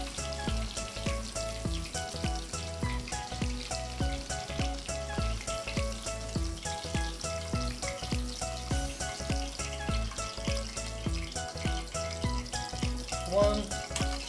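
Pork katsu frying in hot oil, a steady crackling sizzle that holds throughout at moderate level, with background music playing over it.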